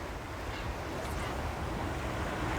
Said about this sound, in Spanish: Escuchemos este gran mar, las gaviotas y las aves, el viento que fluye